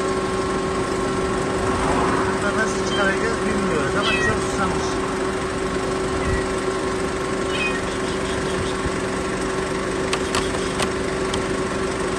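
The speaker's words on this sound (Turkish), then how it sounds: "Ses duyuldu ama kedi olduğu şimdi anlaşıldı" Kitten trapped inside a car, meowing in repeated thin cries over steady background noise, with people talking and some tapping or creaking nearby.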